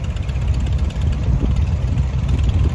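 A Minneapolis Moline Model U tractor, fitted with pulling weights, runs at a steady low idle at an antique tractor and steam engine show parade, its heavy engine rumbling continuously and close by with no talk.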